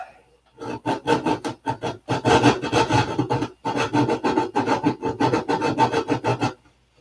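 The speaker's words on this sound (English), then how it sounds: "we'll sand on this a little bit before putting in some stupid fill in it" Wood is sanded by hand in steady back-and-forth rasping strokes, close and fairly loud, with a couple of short pauses between runs.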